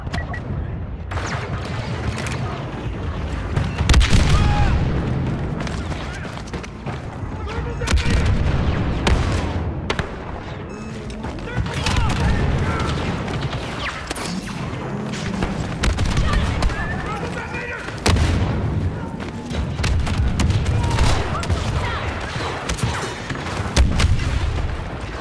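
Artillery fires in a video game battle, with repeated heavy booms and gunfire crackles arriving in waves every few seconds under occasional game voices.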